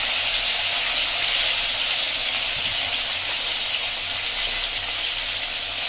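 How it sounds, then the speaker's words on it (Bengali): Ritha fish frying in hot mustard oil in a wok makes a steady, close, unbroken sizzle, a dense bright hiss that holds evenly throughout with no talk over it. "কড়াই গরম করে সরষের তেল দিয়ে গরম করে ওই মাছ দিয়ে দেবেন, দিয়ে ভালো করে উল্টে পাল্টে লাল করে ভাজবেন।"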